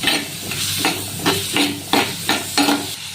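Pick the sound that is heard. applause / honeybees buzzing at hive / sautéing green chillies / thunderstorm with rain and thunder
sautéing green chillies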